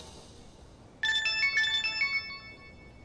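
A mobile phone ringtone starts abruptly and plays a bright, repeating electronic melody for about a second before fading, loud and close over a quiet room with no voices.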